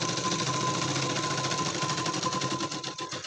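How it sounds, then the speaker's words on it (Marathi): A sewing machine runs a double line of stitching along a tuck on a katori blouse, giving a continuous, close, rapid mechanical rattle at an even pace for the whole stretch. "आता आपण याला मजबूतीसाठी डबल शिलाई मारू"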